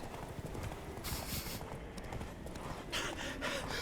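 In the video game The Witcher 3, the horse Roach's hooves clip-clop at a quick, steady pace on the ground, close and continuous, with a brief whinny-like texture in the mix.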